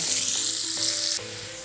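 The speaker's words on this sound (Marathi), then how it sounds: "कढीपत्ता आणि कांदा टाकून गुलाबी रंग होऊपर्यंत हे परतून घेते" Chopped onion, curry leaves and asafoetida sauté in hot oil in a pan, giving a loud, close, continuous sizzle with a bright hiss and faint crackles throughout.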